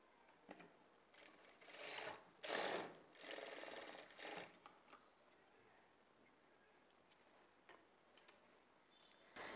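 A sewing machine stitches thread onto cloth to make a hanging dori, with quick bursts of its whirring, ticking mechanism between quieter pauses and a few soft handling clicks, heard close with no talk.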